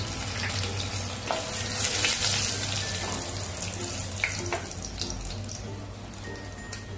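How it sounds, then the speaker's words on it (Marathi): Whole spices including bay leaf, peppercorns, cloves and star anise with curry leaves frying in oil and being stirred, giving steady close crackling sizzle with occasional spatula scrapes. "चांगलं हलवून घ्यायचं आणि कढीपत्ता पण घालूया"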